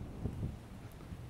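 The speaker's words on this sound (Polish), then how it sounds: "Wieje ciepły, ale mocny wiatr." Strong warm wind blowing in the Karoo desert just after a storm, a low buffeting rumble gusting against the microphone, continuous and fairly faint.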